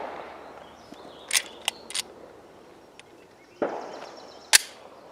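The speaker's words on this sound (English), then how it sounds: "So when you're firing the gun, you're not going to want to release the trigger all the way." Taurus G2C pistol fired on a range: a few scattered sharp shots and trigger clicks spaced a second or more apart, with quiet between them.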